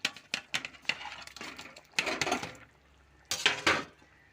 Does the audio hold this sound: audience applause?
no